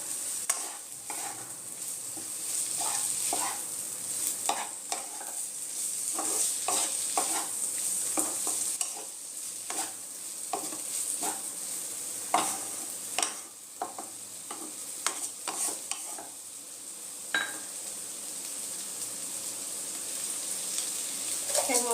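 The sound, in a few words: okra frying and being stirred with spices in a pan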